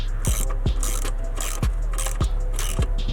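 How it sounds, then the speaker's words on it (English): Screwdriver tightening a carburetor that is leaking gas, giving a steady run of near, sharp ratcheting clicks and short metallic scrapes over a constant mechanical hum. "That just need to be tightened up with a screwdriver."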